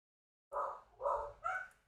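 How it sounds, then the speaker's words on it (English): Dogs barking: three loud, close barks in a quick uneven run after a brief silence, with no talk over them. "hold on, dogs are barking"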